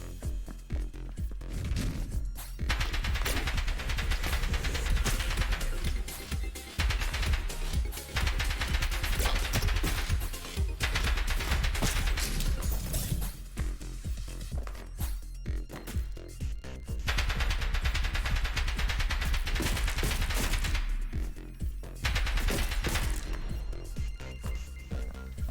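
Rapid automatic gunfire with bullets ricocheting in the video game Neon Abyss, a dense, loud, continuous clatter that runs in long bursts broken by brief pauses.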